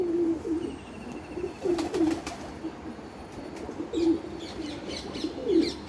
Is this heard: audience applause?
no